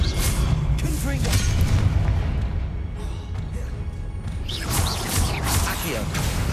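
Confringo fire blast spells explode in Hogwarts Legacy, heavy booming crashes and whooshes that come repeatedly over dense game music and effects, loud and continuous throughout.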